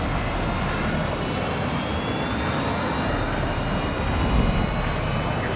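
Guided missile in the Modern Warfare II video game, heard as a loud steady jet-like roar with a slowly rising whine, continuous throughout with no talk.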